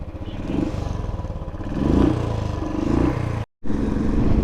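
A motorcycle rides out of Sonamarg in the morning on a Ladakh road trip, its engine droning steadily at moderate volume, with a brief dropout near the end.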